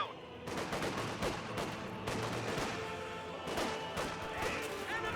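Rifle fire in Company of Heroes 2, with German Grenadiers and Volksgrenadiers firing on an Allied rifle squad. Dense overlapping shots crackle in rapid volleys, mid-distance and sustained throughout.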